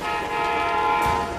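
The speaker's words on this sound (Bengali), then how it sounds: "সামনে থেকে আরেকটা ট্রেন আসছে।" A train approaching with a sustained, loud horn blast in a Bengali cartoon, the tone steady and close over a low rumble with no talk.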